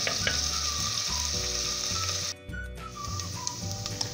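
Onion browning in a pan for a Peruvian olluquito con carne base gives a steady, close sizzle with light stirring scrapes. A brief dip near the middle interrupts it before the frying hiss returns.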